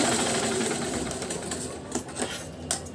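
Sewing machine stitching a double katori blouse, running steadily and close for the whole stretch with a continuous mechanical whir and small bumps near the end.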